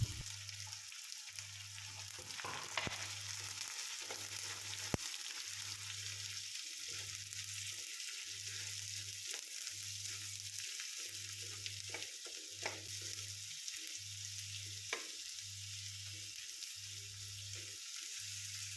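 Chopped onions fry in a pan for a Kerala-style crab roast, giving a steady broadband sizzle alongside a rhythmic low thumping of stirring or scraping repeated about every second, close and continuous with no talking.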